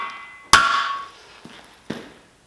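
A sharp, ringing hammer strike on a metal planer stand, followed by a softer tap and another clanging hit, each decaying quickly in a quiet space.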